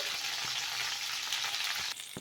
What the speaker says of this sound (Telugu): ఇలా ఈ విధంగా పచ్చిమిర్చిని మగ్గించుకోవాలి